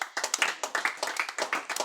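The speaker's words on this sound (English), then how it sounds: "clap for Jesus" Church congregation clapping together in a quick, roughly steady rhythm, a short burst of close, crisp hand claps with no talking over it.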